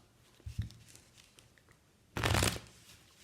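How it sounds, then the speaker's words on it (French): A deck of playing cards is shuffled for a magic trick, with a few light card taps and riffles, then a dense, crisp riffle burst lasting about half a second, close and alone. "Voilà, on mélange le jeu."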